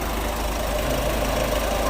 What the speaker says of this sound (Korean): 차량의 엔진 상태는 디젤인데도 불구하고 굉장히 보시는 것 같이 조용합니다